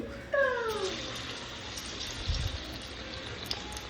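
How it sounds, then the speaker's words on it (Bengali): Ridge gourd vada in gram-flour batter frying in oil on low heat, a steady soft sizzle and hiss throughout, with a brief cat-like meow near the start and a dull thump midway. "এবার আমি তেলের মধ্যে একটা একটা করে আস্তে আস্তে করে দেব।"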